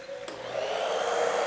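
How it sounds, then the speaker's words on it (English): Hair dryer running on its cold setting, a small internal fan whirring steadily after a click switches it on, close and continuous with a rising airy hiss. "Now, what about this hairdryer right here?"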